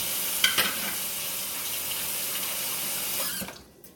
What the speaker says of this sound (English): I'm fixing to rinse it now.